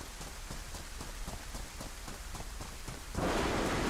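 Heavy rain patters steadily on surfaces in the video game DayZ, a dense even hiss with faint rhythmic thumps, swelling louder near the end, with no talking.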